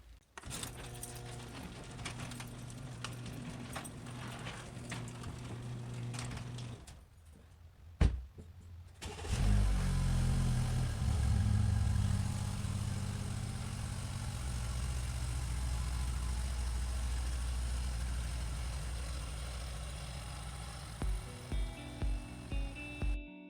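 Keys jingle before a car engine cranks and catches in below-freezing weather, then settles into a steady low idle; a few rhythmic knocks come near the end.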